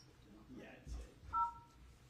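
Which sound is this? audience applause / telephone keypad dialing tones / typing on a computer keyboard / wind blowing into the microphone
telephone keypad dialing tones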